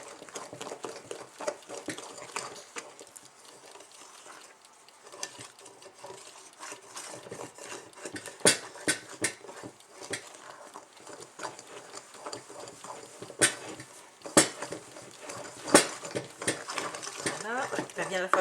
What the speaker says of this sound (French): il ne faut pas y aller comme une folle quand on remue